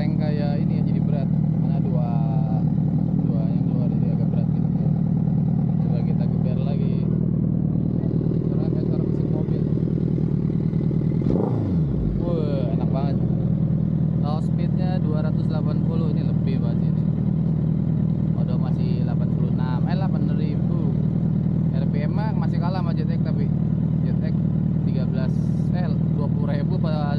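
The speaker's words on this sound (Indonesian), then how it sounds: "Jadi dia knalpotnya 2. Jadi suaranya enggak terlalu cempreng kayak ini ya, jadi berat." 2016 Suzuki Hayabusa with twin exhausts idling with a deep, heavy, steady rumble that runs throughout, with a brief rev or passing vehicle swell near the middle, while someone talks close by over it.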